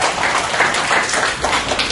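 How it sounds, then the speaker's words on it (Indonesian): Seminar audience applauding: a short burst of many hands clapping together, dense and even, with no clear individual claps and no talking over it. "Tepuk tangan buat Anda."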